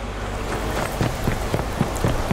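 Rain begins falling in the video game Watch Dogs, a steady hiss of drops hitting the ground with scattered light taps and soft footstep-like thuds over a constant low background hum.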